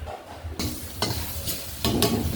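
Fish maw being stir-fried in a small pan, a continuous sizzle broken by a few sharp scraping stirs of the utensil against the pan, close and alone.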